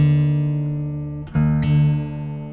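The D and low E guitar strings ring together, sustained and bright, then are plucked again twice in quick succession and ring on.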